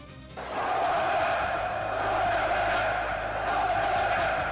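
A large video game crowd roars in a steady, sustained din that swells in and holds, like gladiator arena spectators shouting together.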